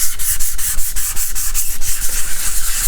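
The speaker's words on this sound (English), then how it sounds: "you can actually start with a finer grit of sandpaper using the circular motion" Sandpaper worked in circular motions over a guitar's finish during initial level sanding gives loud, close, rhythmic scratchy rubbing strokes, several per second, repeating evenly without any talk.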